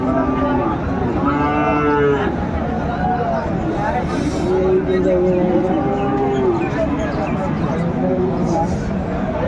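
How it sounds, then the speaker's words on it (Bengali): Shahiwal bulls and other cattle at a livestock market in Dinajpur let out repeated loud, drawn-out moos at close range, mixed with people talking and general crowd noise. "গরু আমরা দেখছিলাম এখানে"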